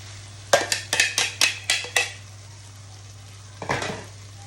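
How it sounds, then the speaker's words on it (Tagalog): Marinated squid being sautéed in a pan with onion, garlic and chili: a quick series of about seven sharp clanks from a utensil against the pan, then a pause and a brief scraping stir over a faint steady hum. "Ilagay na natin ang ating uh, minarinate na pusit."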